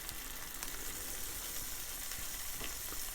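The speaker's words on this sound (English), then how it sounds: "we're just going to swish that all around and just cook the rawness out of the herbs and spices" A pan of herbs and spices, including ginger and Chinese spice, sizzles in a steady, faint hiss while frying for a bean and kale stir fry, with light crackles over the constant sizzle.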